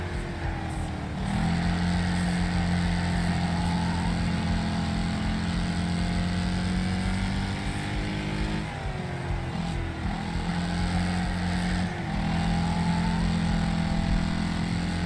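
Racing engines in the demolition derby game Wreckfest, with a limousine among the cars, a continuous loud droning growl that swells and dips as gears shift and cars rev, with no talk over it.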